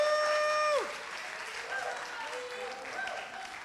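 Clapping from a crowd at a business challenge event, sustained and moderately loud, with a whistling tone at the start and voices talking over it.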